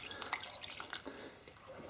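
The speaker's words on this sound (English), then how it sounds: "Now I think we need a little bit more water in there" Water poured into a pot of lentil, chorizo and potato stew, a soft, steady trickling and splashing with small drips, faint and continuous throughout with no talking.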